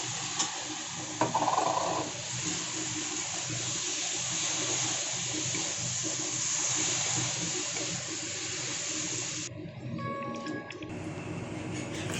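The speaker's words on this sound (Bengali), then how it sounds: "মিক্সিটা ধুয়েও জল দিয়ে দেবো" Water sloshing and splashing steadily as a mixer grinder jar is rinsed out and poured, a continuous close wash of noise that cuts off near the end, followed by a few clinks in the kitchen.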